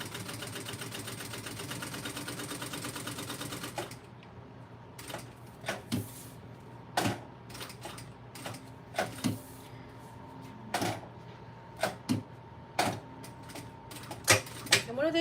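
Sewing machine stitching a circle bag, starting with a steady continuous whirring run for a few seconds, then breaking into short repeated bursts of stitching separated by brief pauses, close and moderately loud.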